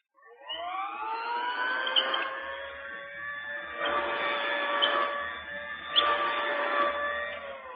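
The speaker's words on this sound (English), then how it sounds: "An old-style vacuum sweeper running on the floor above." An old-style vacuum sweeper drones with a rising whine, its pitch and loudness swelling and easing in repeated strokes as it is pushed back and forth over a rug, heard fairly faintly.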